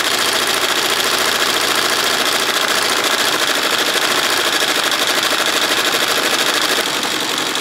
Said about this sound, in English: So right now we've got a big X that we're actually embroidering.